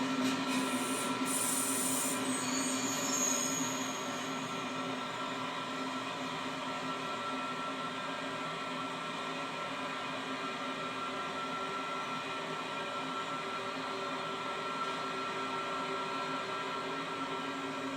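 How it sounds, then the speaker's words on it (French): Steady, loud electric drone of an SNCB type 11 dual-voltage electric locomotive, heard from the cab, holding an even tone throughout with a brief higher whine near the start. "c'est une locomotive bitension type 11 de la SNCB qui vient se mettre en tête du train"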